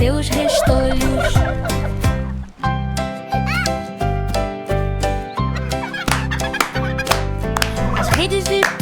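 Turkeys gobbling over a lively children's nursery song, with fast rattling gobbles recurring through the busy music and a sung voice.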